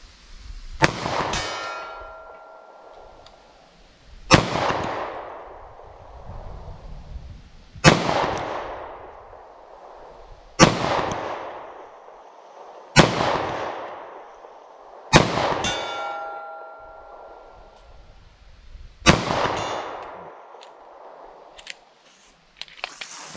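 Six .45 ACP Fiocchi Defense Dynamic pistol shots, each a sharp crack followed by the bright clang of a steel target ringing and fading, spaced a few seconds apart, loud and with no talking.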